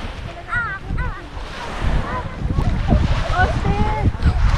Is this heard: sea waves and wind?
yes